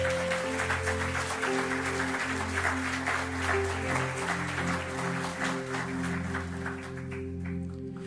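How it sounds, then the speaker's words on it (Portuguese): A crowd applauds steadily, a dense wash of clapping with a low sustained hum underneath that tapers off slightly near the end. "Pode aplaudir a Jesus por isso"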